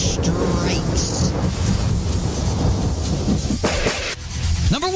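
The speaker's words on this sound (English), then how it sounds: "lightning strikes." Thunder from a lightning strike, played as a sound effect: a loud, dense rumbling roar that sustains for several seconds, dips briefly, then surges again with a sharper crack at the end.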